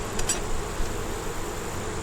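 Honey bees buzzing around a hive, a steady close drone filling the short stretch with faint brief higher whines near the start.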